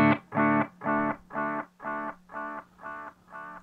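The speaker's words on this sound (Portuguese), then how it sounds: "Um delay de fita que simula uma fita já gasta" An electric guitar through a Kemper amp's tape delay effect modelling a worn tape, a single plucked note repeating about eight times in an even rhythm, each echo slightly fainter and darker.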